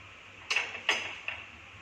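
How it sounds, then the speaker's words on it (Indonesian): A Vietnam coffee drip filter lifted off a cup, two faint metallic clinks followed by a softer third tap, quiet and close. "Kita turunkan alat coffee drip ini."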